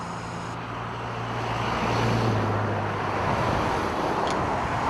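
Street traffic rushes past in a steady broadband roar, swelling as a vehicle draws near and passes with a low engine hum, then easing slightly, with no voices.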